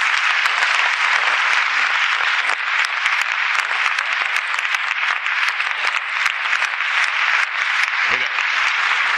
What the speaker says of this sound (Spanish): podemos dar outro aplauso porque ben merecido ten Guadalupe